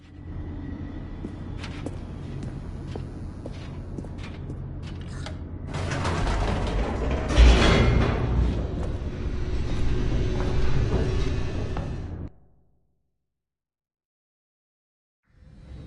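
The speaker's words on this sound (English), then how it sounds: "The elevator raced downward" Elevator in the video game The Stanley Parable descending with a creaking, grinding mechanical rumble that swells louder midway, peaks with a heavy clunk, then cuts to silence before a faint restart.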